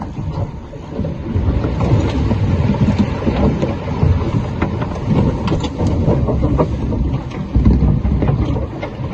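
Strong wind of about 20 to 25 knots buffeting a sailboat under head sail in rain at sea, a loud continuous rushing roar with gusty surges and water noise throughout, no voices.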